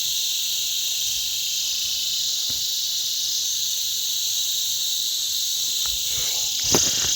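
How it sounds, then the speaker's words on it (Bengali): Crickets on a Himalayan mountain trek toward Rudranath in Uttarakhand keep up a dense, steady, high chirring drone. It is loud and unbroken, with only a couple of faint knocks and no talk. "সুন্দর ঝিঝিপোকার আওয়াজ আমি চুপ করলে শোনা যাবে"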